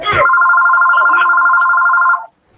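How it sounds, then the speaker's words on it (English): A telephone rings in one steady, sustained electronic tone lasting about two seconds, loud and close, then cuts off into near silence. "Thank you, phone, for ringing right now."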